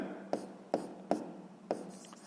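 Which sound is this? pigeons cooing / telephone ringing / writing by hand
writing by hand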